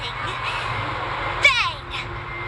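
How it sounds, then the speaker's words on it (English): A video game raven caws in the distance, one hoarse call rising and falling in the middle of a quiet, steady ambient background with faint game tones. "I heard a raven cawing in the distance."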